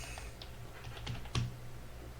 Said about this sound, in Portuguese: como eu estou digitando legal